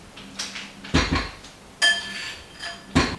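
A spatula scrapes around the sides and bottom of a mixing bowl of buttery Lotus Biscoff cupcake batter, giving a few short, separate clinks and scrapes with quiet pauses between them.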